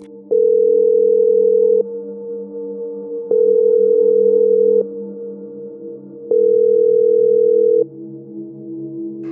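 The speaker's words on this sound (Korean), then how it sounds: "다음 순간 폰이 울렸다." Mobile phone ringing with a steady electronic tone in three evenly spaced bursts of about one and a half seconds each, separated by short gaps, loud and close, with no one talking.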